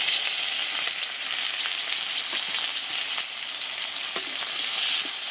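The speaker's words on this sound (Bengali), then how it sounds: "আর একটু সামান্য গোটা জিরে দিয়ে পেঁয়াজটাকে দিয়ে একটু ভেজে নিচ্ছি" Chopped onion frying in hot oil with whole cumin, cardamom, cloves, cinnamon and bay leaf, a dense continuous close sizzle with faint crackles and light stirring.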